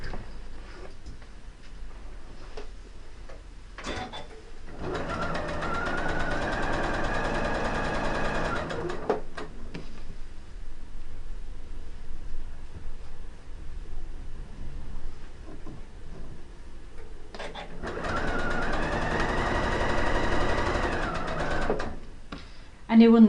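A domestic sewing machine stitches a seam on quilt blocks in two runs of steady rapid whirring, each lasting several seconds, separated by a quieter pause with clicks and light handling noise.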